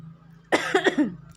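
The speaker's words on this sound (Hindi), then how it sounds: "खांसी, सॉरी फॉर दिस।" A single short cough, close and fairly loud, breaks a quiet background with a low steady hum.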